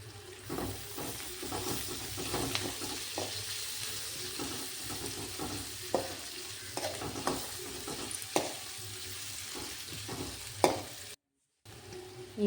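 Ingredients for tomato bath frying in a pan, a steady close sizzle broken by repeated stirring scrapes and clinks, with no talk over it and a brief drop-out near the end.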